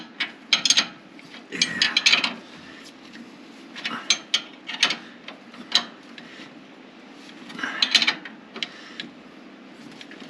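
A ratchet tightens a bolt on a vehicle in a few scattered bursts of clicking, close by, with a brief spoken word between strokes.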